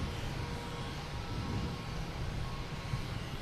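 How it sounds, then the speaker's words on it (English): A JetBlue airliner arriving at Boston Logan from San Juan makes a distant, steady low jet rumble that holds evenly throughout, faint and broadband with no other distinct sounds. "We got JetBlue coming in from San Juan."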